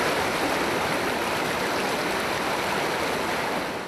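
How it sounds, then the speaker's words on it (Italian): A strong, forceful river current rushing through rugged terrain near Montello, a steady loud broadband roar of churning water that stays constant throughout with no voices. "la corrente del fiume è forte"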